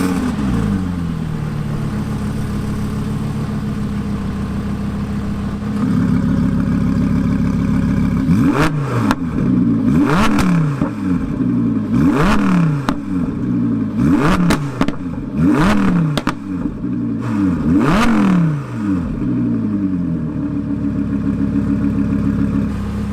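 A car fitted with a Valvetronic Capristo exhaust idles with a deep, steady burble, then is blipped through a series of sharp, loud revs, each rising and falling in quick succession before settling back to idle.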